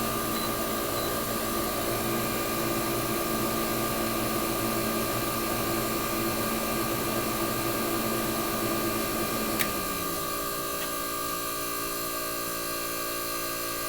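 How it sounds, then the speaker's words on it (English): A GE window air conditioner compressor runs with a steady mechanical hum alongside its fan, then a brief click near the end before the compressor note drops and winds down, leaving the fan alone. "There's the compressor. She's sounding healthy."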